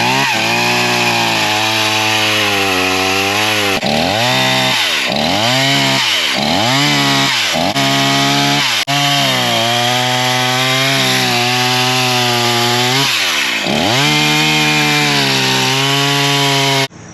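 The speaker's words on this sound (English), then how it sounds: "we got this new full chisel skip blade. We're gonna cut the living shit out of this stump." A chainsaw fitted with a full chisel skip chain cuts into a large tree stump, roaring loud and continuous throughout, its pitch dipping and rising repeatedly as the blade bogs into the wood and revs back up.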